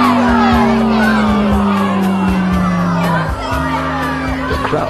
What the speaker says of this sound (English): instead of cheers of elation, all you hear are awes